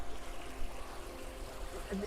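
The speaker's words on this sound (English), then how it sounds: "this looks like a natural babbling brook that you'd see in the forest" A backyard pond's man-made stream, built with pumps, filters and laid rocks, trickles steadily like a forest brook, a soft continuous wash of water running close by with no voices.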